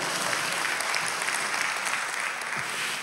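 A church congregation applauds throughout a sermon, a dense, sustained patter of many hands clapping at steady moderate loudness from start to finish.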